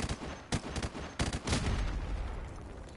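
Short bursts from an M249 machine gun in Modern Warfare Remastered rattle close and loud, a few quick rattling volleys within three seconds trailing into ringing ambient decay.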